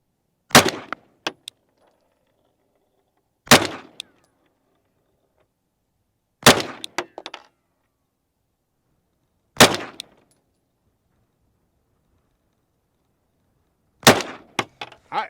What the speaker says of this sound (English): Marco, we're going to shoot the top right.